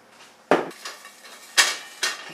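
Metal frying pan clattering on a kitchen stove, with four sharp knocks spaced irregularly and some lighter rattles between them, close and with no talking.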